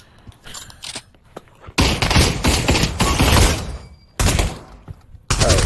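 Panicked rapid gunfire empties a magazine in the Pavlov VR shooter, loud dense bursts of automatic fire in several long strings separated by short quiet gaps.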